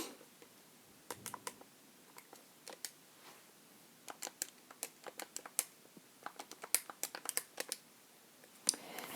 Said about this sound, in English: So let me actually do that on my calculator.